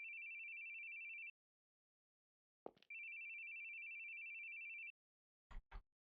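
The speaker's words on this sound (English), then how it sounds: "Your phone. I hate hearing phones ring." A telephone rings in a video game: two long, even electronic tones separated by a gap, followed by a few sharp clicks in otherwise quiet surroundings.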